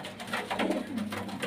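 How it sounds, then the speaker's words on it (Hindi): Domestic racing pigeons coo softly in their coop lofts, a steady low murmur of several birds close by, with no talk over it. "ये सब लगे हुए और अच्छे पाईदार कबूतर हैं।"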